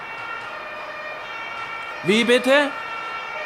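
A steady police car siren tone hums in the background throughout, and a voice speaks briefly over it near the end.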